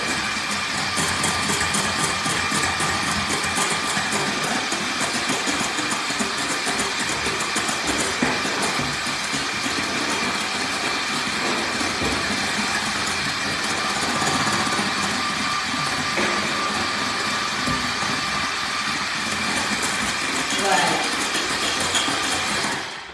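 A stand mixer whipping Italian meringue whirs steadily and loudly for the whole stretch, a constant high motor whine with a faint rhythmic beat, and brief speech underneath.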